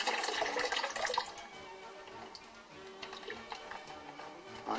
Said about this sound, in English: we pour it like this into the muslin bag